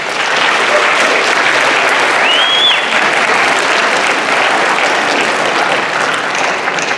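Audience applause for the speaker Rachel at a school gathering for the Westdale Warriors, steady dense clapping from a large crowd that holds at full loudness throughout, with no talking over it.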